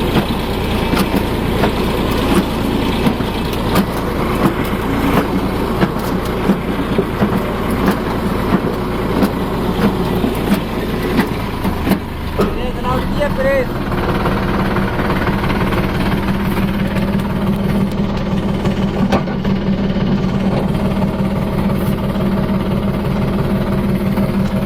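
An automatic potato planter machine works in a field, its engine running with a steady, loud droning rumble and heavy vibration throughout, with no talk over it.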